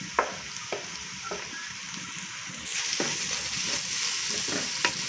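Curry leaves, crushed bird's eye chillies, ginger and garlic sizzle in a pan for a Kerala-style pork dish, a steady close frying hiss that grows louder halfway through, with a few sharp stirring clinks and scrapes and no talking.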